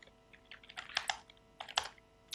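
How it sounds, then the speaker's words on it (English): Keystrokes on a computer keyboard while code is typed, two short bursts of quick, clicky taps close to the microphone with a brief pause between them, no talking. "then I'd need to start typing up my code"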